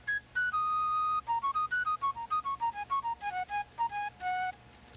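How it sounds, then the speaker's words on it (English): Computer-synthesized flute plays a series of clear, distinct notes in a steady rhythm, each tone held briefly before the next, sounding alone with no talk and a faint hum beneath. "And we can substitute the flute for that,"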